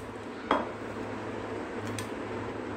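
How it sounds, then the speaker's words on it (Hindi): Two spoonfuls of sabja (basil) seeds go into the bottom of a glass for mango falooda, giving a single sharp clink of spoon on glass over a quiet room hiss. "मैं एक ग्लास की तली में डाल रही हूँ ये 2 चम्मच सब्जा के"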